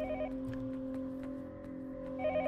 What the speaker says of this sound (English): so let's go answer that phone.